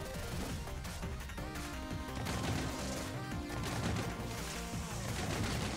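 A grenade goes off in the Hive Jump video game amid dense, continuous game noise, with bursts of gunfire-like crackle and music running steadily throughout.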